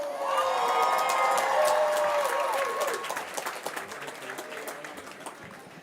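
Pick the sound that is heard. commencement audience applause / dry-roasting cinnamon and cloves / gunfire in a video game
commencement audience applause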